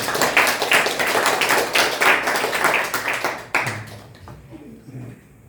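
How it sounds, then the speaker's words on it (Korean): A church congregation claps to welcome visitors, a brisk, rhythmic patter of many hands at close range for about three and a half seconds before it stops abruptly, leaving a quiet room. "박수로 환영하겠습니다"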